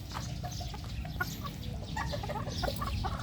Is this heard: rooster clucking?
yes